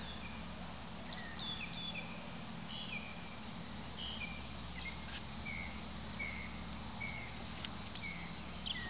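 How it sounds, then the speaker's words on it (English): Dense night insect chorus of crickets and cicadas, a steady layered trill with repeated short high chirps scattered throughout, faint bird calls and a low distant hum underneath, continuous and moderately quiet. "There's birds and cicadas and other chirps and"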